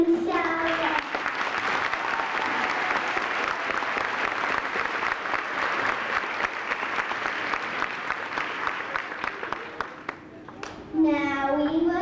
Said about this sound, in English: please clap your hands to show it